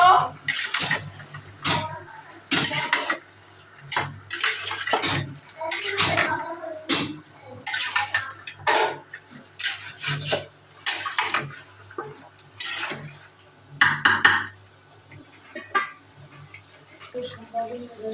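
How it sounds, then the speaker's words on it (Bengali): Chicken pieces from a two-kilogram bird are stirred in a pot while cooking biryani, with a ladle scraping and clinking against the metal in irregular bursts separated by short pauses, and a voice talking at times between the strokes. "মাংস আমি সুন্দর করে বারে বারে নাড়িয়ে নেব।"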